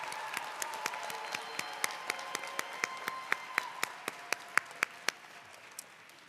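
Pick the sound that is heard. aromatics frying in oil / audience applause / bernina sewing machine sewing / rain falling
audience applause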